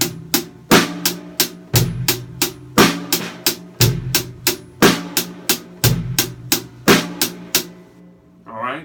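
A drum kit played with sticks in a rolling triplet 12/8 groove, steady backbeat snare and ringing toms, loud and close, with no talking.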